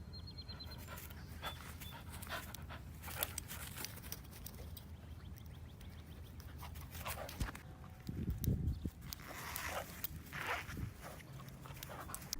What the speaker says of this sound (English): Here's a dog that only has 2 legs but doesn't seem too bothered about it.